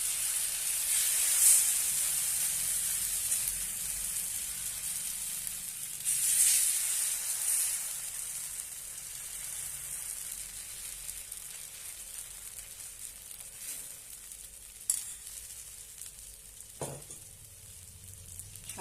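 Finger millet thalipeeth batter sizzles steadily on a hot griddle, a continuous close frying hiss with a few soft scrapes and pops. No voices.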